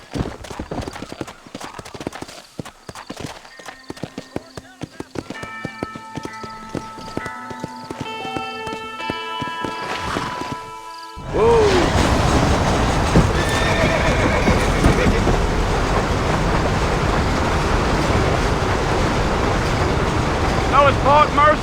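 A horse in the Red Dead Redemption game clip-clops at first, whinnies, then gallops hard under a rush of wind noise, the hoofbeats steady and close throughout.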